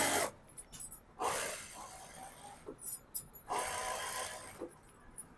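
A sewing machine runs lace kinari trim along the edge of an Anarkali dress, with short bursts of whirring stitching separated by quiet pauses and no voices.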